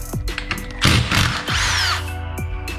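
A power drill spins out a 7/16 lag bolt during garage door spring work, with whining motor bursts that rise and fall in pitch, a rattling middle stretch, and short tool clicks between runs, loud and close.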